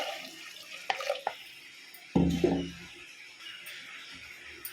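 A brief splash of water poured into a pot lasts about a second, preceded by a few light knocks, then quiet room noise.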